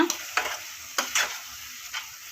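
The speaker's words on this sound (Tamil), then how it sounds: "எடுத்து நல்லா கிளறி விடணும். கிளறி விட்டாத்தே சூப்பராக வேகும்." Cooked raw mango is stirred and mashed in a pan, with several distinct scraping swipes of a spoon at an uneven rhythm over a soft sizzle, near and unaccompanied by talk.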